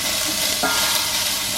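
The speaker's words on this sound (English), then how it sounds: "Start to sizzle." Food sizzling in a hot pan on an induction hob in a campervan, a steady bright hiss with a brief stirring clatter partway through, close and fairly quiet.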